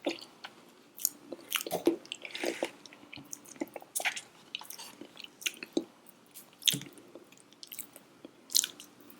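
Close-up mouth sounds of someone eating fresh avocado, soft wet squishes and smacking bites repeating irregularly in a quiet room.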